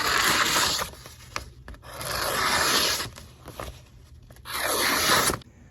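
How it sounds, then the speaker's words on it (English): An EAFENGROW EF131 knife blade slices through paper in three long strokes, each a close, loud, raspy rustling rush, separated by shorter quiet gaps with small crinkles. "let's take a look at the paper sharpness"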